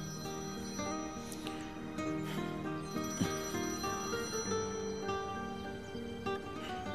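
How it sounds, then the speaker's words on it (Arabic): A mobile phone ringtone repeats steadily for the whole stretch with a sustained, tonal pattern. It sounds fairly close and carries on alone with no talk over it. "موبايلك عميرن"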